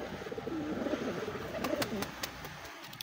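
Pigeons on a pigeon farm coo nearby in low, repeated warbling phrases, with faint clicks and light background noise.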